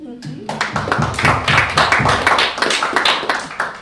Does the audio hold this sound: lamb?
no